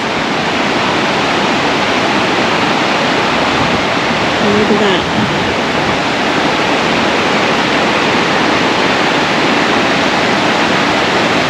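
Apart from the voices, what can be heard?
waterfall cascades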